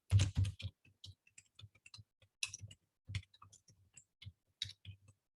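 Rapid keystrokes on a computer keyboard, a close, crisp run of clicks in irregular bursts with short pauses between, heard alone without talk.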